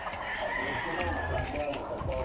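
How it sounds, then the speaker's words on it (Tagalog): Chickens in a backyard garden, with a rooster-like call and soft clucking running steadily for a couple of seconds beside faint human voices and outdoor background noise. "meron tayong mga manok"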